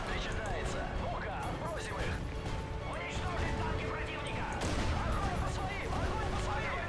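Gunfire and crashing impacts in the Call of Duty: Ghosts video game, a busy stream of shots and bangs beneath someone talking almost the whole time.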